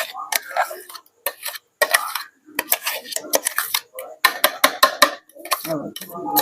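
A utensil scrapes pumpkin barfi mixture out of a pan into a cooking pot in a run of close, sharp scrapes and clinks, with short gaps between strokes.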